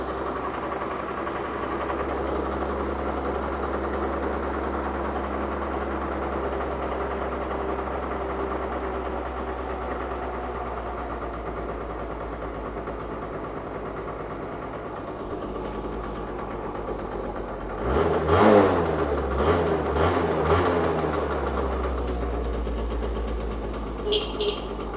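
A Yamaha Zuma 50 scooter idles with a steady, buzzing two-stroke drone, then revs briefly louder partway through before settling back to a close, even idle.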